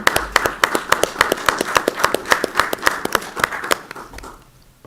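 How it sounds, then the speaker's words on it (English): Applause at a board of education meeting, in honour of the board members: evenly spaced rhythmic claps from what sounds like a small group, fairly close, fading out near the end. "So a round of applause for our board members on all that they do."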